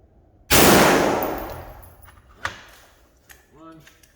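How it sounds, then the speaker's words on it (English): One sharp, loud rifle shot from a Springfield Armory ATC Saint fired at a target outdoors in cold Iowa weather rings out and decays, followed by faint metallic clinks and a brief voice. "now I'm going to shoot the upper left target"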